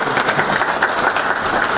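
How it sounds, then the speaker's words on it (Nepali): Dense, steady applause from an audience honouring guests from Chitwan at a Bhaktapur and Chitwan chambers of commerce agreement event, loud and continuous with no voices on top. "सम्पूर्णलाई एकचोटि उहाँहरूको सम्मानमा जोडदार ताली बजाइदिनु हुन"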